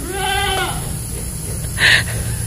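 A goat of around 20 kilos at a livestock market in Nashik gives one loud, close, wavering bleat, followed by a brief higher burst of another sound, with no talk.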